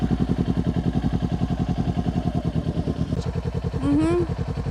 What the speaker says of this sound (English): the bike should just start going on its own. That once you're letting it clutch out